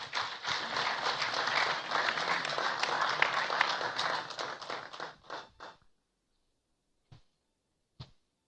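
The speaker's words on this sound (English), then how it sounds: "Please, let's welcome her with a round of applause." Audience applause welcoming a spoken word performer on stage, sustained dense clapping for about five seconds that thins and stops, followed by near silence with a couple of isolated soft sounds.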